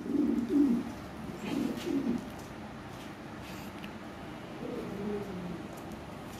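Lahori Sirazi pigeons coo in soft, low repeated phrases, a cluster of three coos early on, then a pause before another gentle coo sequence, close and unaccompanied by talk.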